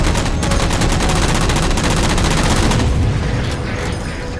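Rapid automatic gunfire in Halo 4 as jammers are shot down, a loud, dense stream of shots with no gaps that eases slightly near the end.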